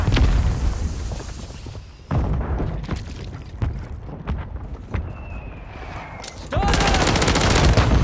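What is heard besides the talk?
mortar strike explosions and gunfire in a video game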